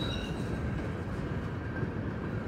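Freight train rolling past at close range, a loud, steady rumble of wheels and cars with faint high squeal tones, continuous throughout the short stretch.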